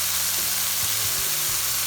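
Fish for brown stew fish brown in a pan with a continuous soft frying sizzle and faint pops and clicks underneath, heard alone without talk.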